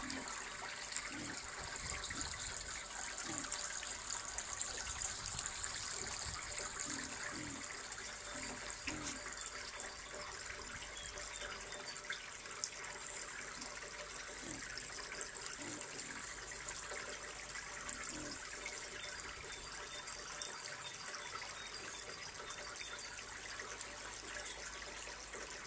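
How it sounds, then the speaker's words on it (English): Water runs steadily into a pig trough outdoors, a continuous gushing fill heard at moderate level over roughly twenty-five seconds with faint background sounds. "It'll take a while for your trough to fill up."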